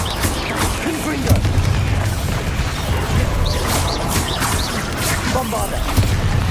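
Heavy explosive blasts and crashing impacts from a Bombarda spell in Hogwarts Legacy, repeated booms over a dense, loud battle din with whooshing spell effects and shouted incantations mixed in.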